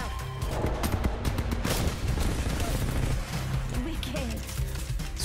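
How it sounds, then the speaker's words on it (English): L-Star plasma rifle firing in Apex Legends, a rapid burst of sharp energy shots in the first couple of seconds, followed by continuing game noise and scattered impacts. "Yeah, so it is a plasma rifle."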